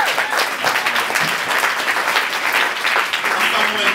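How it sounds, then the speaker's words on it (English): An audience at a poetry reading breaks into close, lively applause for a poet, a dense, even roar of clapping hands with voices mixed in, loud and steady throughout. "let's give a round of applause for that"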